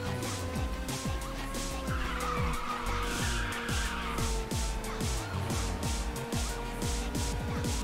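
Racing cars in Ridge Racer 6 roar through the race with repeated engine revs and gear shifts, while tires squeal in a sustained skid partway through, loud and continuous over synthetic game music.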